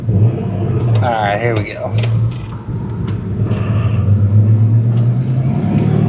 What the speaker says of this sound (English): So we have a 1993 Ford SVT Mustang Cobra with the original 5-liter and 5-speed manual transmission